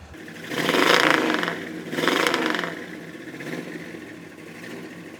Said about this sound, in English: When you hit that throttle and she rev up and you let off of it and that cam just start clicking